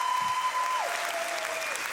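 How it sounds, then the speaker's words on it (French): A comedy show audience applauds in a steady, dense wash of clapping with a sustained tone running underneath, no voices rising above it. "on les applaudit très fort."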